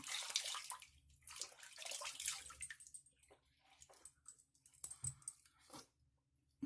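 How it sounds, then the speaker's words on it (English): Water splashes as a face is rinsed after a shave with a Gem SE Micromatic razor, close, quiet, irregular sloshing and dripping, strongest at first, then fading to scattered splashes and drips. "Let's rinse off and see where we're at."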